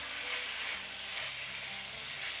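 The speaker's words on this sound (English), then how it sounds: "So let's give this a stir." Food sizzling in a frying pan while being stirred, a steady close hiss of frying with soft scraping and clinks underneath, no voices.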